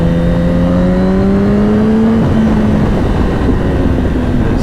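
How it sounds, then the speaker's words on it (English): A 2007 Yamaha R1 sportbike with an underside exhaust running at speed, a loud steady engine drone with a rising pitch as it pulls through the gears, heavy wind rush throughout. "that underside exhaust really does do it for me, and it sounds really nice."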